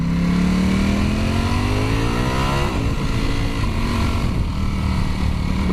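Ducati Panigale V4 motorcycle engine revving up, a loud close rising whine that peaks, then settles into a steady rough mid-pitched drone, with no talk over it.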